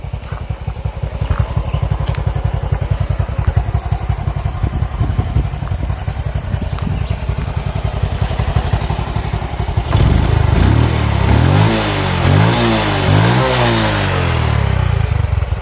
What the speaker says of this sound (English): So this is a Honda Wave.